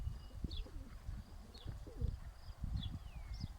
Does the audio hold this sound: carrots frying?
no